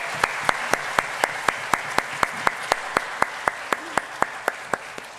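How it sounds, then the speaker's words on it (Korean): Steady applause from a church congregation at a Sunday worship service, with evenly spaced sharp claps standing out over the general clapping throughout. "하나님께 영광의 박수 올려드리겠습니다"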